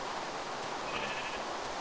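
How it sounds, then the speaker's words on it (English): Sheep in Minecraft bleat in a short, steady, bright burst with no talk over it. "Stay back, sheep."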